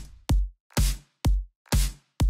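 Electronic drum loop of punchy kick drums alternating with a layered snare and clap hit, five sharp dry hits in a steady even rhythm, close and clean with silence between.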